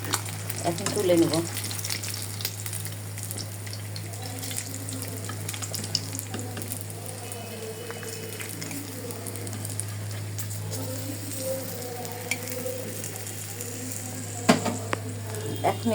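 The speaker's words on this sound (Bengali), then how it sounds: "তো আমার মাছ ভাজা হয়ে গেছে, এখন তুলে নেব।" Sarputi fish fry in hot oil with a steady, close crackling sizzle throughout, broken by a few soft clinks of a utensil against the pan and faint background sounds.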